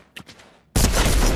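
A sudden loud burst of gunfire in Fortnite Creative, dense and sustained after a brief quiet moment with faint rattling, filling the end of the stretch.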